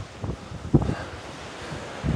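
Wind buffets the microphone on the Baltic Sea coast at Hel, Poland, in irregular low gusts, with waves washing faintly behind it and no voices.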